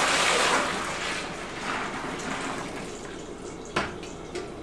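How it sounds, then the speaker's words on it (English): Cooled Belgian whitbeer wort pours into a plastic primary fermentation bucket as a steady rushing, splashing stream that gradually eases, ending with a couple of sharp knocks. "Now we're going to go ahead and add it into the primary fermentation bucket."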